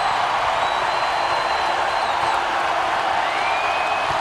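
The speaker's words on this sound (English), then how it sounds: "Crowd is fired up in Columbia." A women's college basketball crowd in a Columbia arena roars in a steady, loud wash of cheering, with a faint whistle-like tone riding on top.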